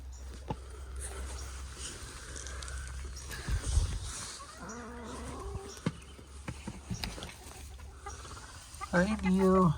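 Chickens cluck in short, scattered bursts on an overcast, lightly rainy day, with farmyard background noise and occasional louder calls near the end.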